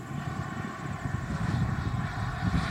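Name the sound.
radio-controlled model airplane flying, testing flaps on first flight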